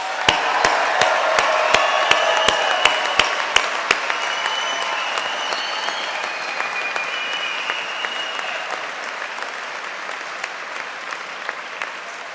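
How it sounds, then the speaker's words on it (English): Sustained applause from a large audience for graduates at an engineering convocation ceremony, dense and even throughout, opening with a run of sharp rhythmic claps before settling into a steady wash of clapping. "join me in a warm round of applause for our graduates one more time"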